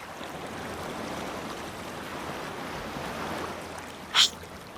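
Ocean waves wash steadily around a ship in the middle of the open sea, a soft, constant rushing hiss with one brief high squeak near the end.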